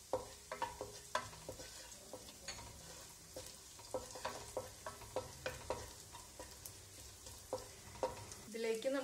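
Green chillies sizzle in a pan with chopped garlic for a potato and cauliflower kootu curry, with frequent spatula scrapes and stirring taps over a soft, steady frying hiss and a louder clatter at the end.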